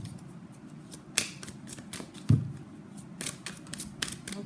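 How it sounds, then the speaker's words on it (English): Tarot cards being shuffled and pulled, soft papery flicks and snaps at irregular intervals, close and quiet against a low background hum. "So let's pull some cards from universe where this connection is headed in near future."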